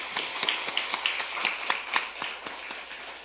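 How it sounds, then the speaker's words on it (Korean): A church congregation applauds the choir during a Sunday service, a fairly small group clapping in a loose, even rhythm with distinct individual claps standing out, moderately near and unaccompanied by talk. "우리 찬양대원들 이 찬양대 섬기느라 참 수고한다고 우리 격려 박수 한번 보내십시다."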